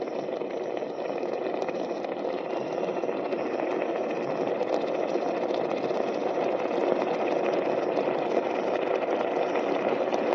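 An electric kettle cooking thukpa runs at a rolling boil, giving off a dense, steady bubbling roar with a faint rattle that holds unbroken and close throughout.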